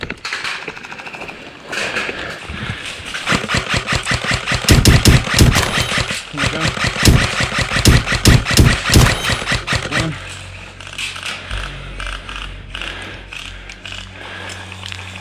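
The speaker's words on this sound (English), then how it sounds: "I'm taken out with a short full auto burst" Airsoft guns fire in rapid full-auto bursts during a game at an abandoned saw mill, a dense run of sharp clattering shots in the middle, trailing off into a low hum.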